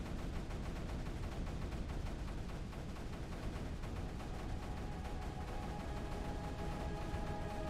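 Mortar weapons firing in the video game Creeper World 3, a dense continuous barrage of crackling, thumping blasts that overlap without pause, moderately quiet and steady throughout.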